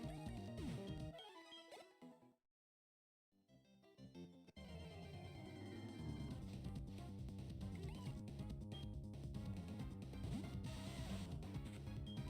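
A cat meows in a Pokémon video game over dense, busy game music, with a short silent gap early on before the music resumes loud and continuous.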